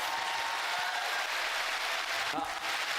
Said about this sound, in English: they just heard your cheering